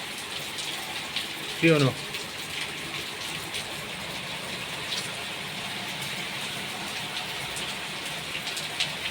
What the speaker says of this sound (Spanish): Pura bendición la lluvia.